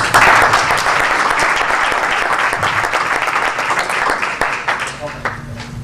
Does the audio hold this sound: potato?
no